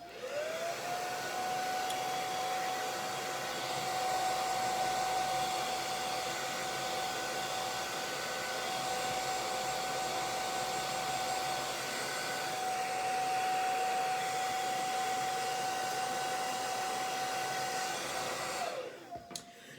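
A hair dryer blows heat onto hair, a steady close whirring hiss with a constant whine that runs unbroken for most of the time before switching off at the end.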